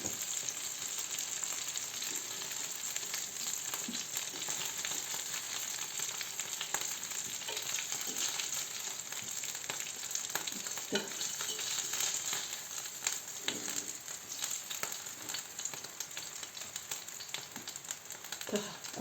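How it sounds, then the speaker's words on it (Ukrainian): Steady, loud sizzling of flour-coated fish frying in a hot pan, with occasional pops and crackles and no talking. "Вона смажиться."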